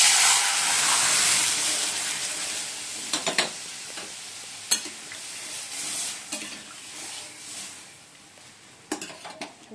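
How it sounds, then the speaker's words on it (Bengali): Cumin, bay leaf and dried chilli sizzle in hot oil. A loud hiss fades gradually, broken by a few sharp metallic clinks and scrapes of a utensil against the pan. "জিরে আর তেজপাতা শুকনো লঙ্কা ফোড়ন দিয়ে দিচ্ছি।"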